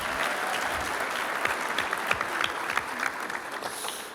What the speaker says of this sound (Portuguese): Uma salva de palmas para esse menino aqui.